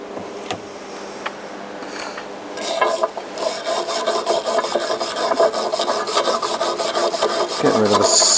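A wire brush scrapes slag off a fresh weld bead in rapid, harsh rasping strokes, close and loud. A few isolated scrapes come first, then continuous vigorous back-and-forth brushing.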